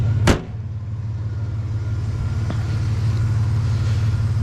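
A 2002 Chevy S-10 Xtreme Blazer with 86k miles sits idling, a steady low engine rumble holding even throughout, with a sharp click or thump near the start and no voices.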